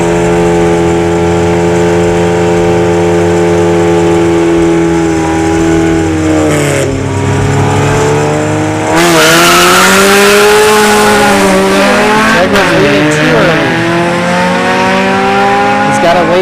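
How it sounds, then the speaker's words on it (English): An Acura Integra and an Infiniti Q50 launch side by side down a dragstrip, engines droning at idle and then screaming through sharp rising gear shifts, loud and close, with talk in the background. "Got the Integra coming up on the right lane, and the Q50 on the left lane."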